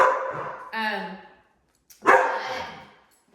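Two bursts of strained, whining barks from a dog nearby, separated by a brief pause, each fading out in a tense, high yelp.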